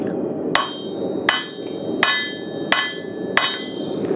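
Hammer striking copper jewelry on a hard surface, five sharp ringing metallic blows at an even pace of roughly one every 0.7 seconds, close and clear with no talking.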